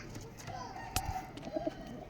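Domestic pigeons, a newly acquired breeding pair including a male, coo softly in a few short, close murmuring calls, with faint voices and background noise around them.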